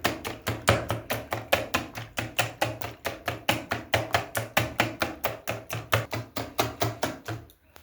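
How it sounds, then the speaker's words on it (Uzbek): Eggs are whisked briskly in a bowl, a fast, steady rhythm of close, even strokes that continues without pause before stopping abruptly. "tuxumni yaxshilab aralashtirib olib"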